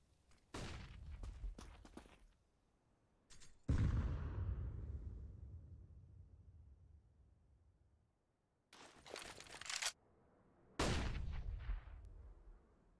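Gunfire and incendiary grenades in a professional Counter-Strike match on Dust2: sharp bursts of shots with rumbling tails, separated by quiet gaps, some loud and close, others fading off.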